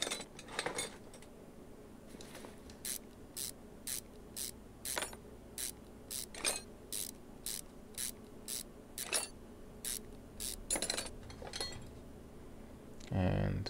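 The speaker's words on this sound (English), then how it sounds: "we need to remove the pulley first" A car pulley is removed in Car Mechanic Simulator 2021 with rapid, evenly spaced ratchet clicks repeating for several seconds, mixed with a few metallic clinks.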